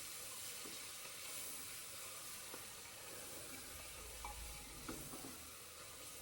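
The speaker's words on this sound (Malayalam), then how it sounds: "ഞാൻ ചിക്കൻ ഇട്ട് കൊടുക്കുകയാണേ." Chicken sautéing in a pressure cooker, giving a steady low sizzle and hiss with occasional soft scrapes as it is stirred, fairly quiet and with no voices.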